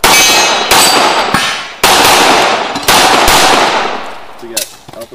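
Rapid gunshots ring out at a club shooting match, each followed by the sharp clang of steel targets, several bursts in quick succession with fading ring between, close and loud.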